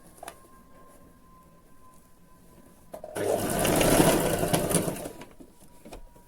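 A sewing machine stitches a seam along the side slit of a dress or kurti, a loud steady whirring burst of about two seconds after a quiet stretch, with no talking.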